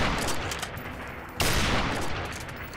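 Gunfire in Call of Duty 4: Modern Warfare, with a sharp, loud sniper-rifle-style shot about halfway through that breaks a steady, dense wash of battle noise and leaves it louder afterward.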